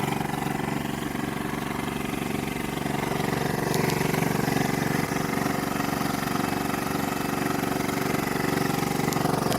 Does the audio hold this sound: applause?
no